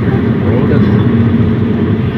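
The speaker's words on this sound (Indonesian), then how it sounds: "Suara mesin bagus, teredam dengan baik" A steady, muffled engine hum drones from inside the cabin of a Honda Stream 1.7 manual, low and even, with no voices.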